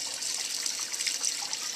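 Water trickles and splashes steadily in the sump of a 55-gallon coral reef aquarium as the pump runs, a continuous close wash with no talk.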